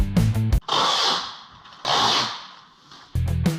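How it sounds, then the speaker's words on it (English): Power drill boring holes for a side skirt on a Citroen Saxo under rebuild, with two long whirring bursts that rise and fade, framed by short close mechanical rattles at the start and end. "once marked out, I set to work drilling out all the holes"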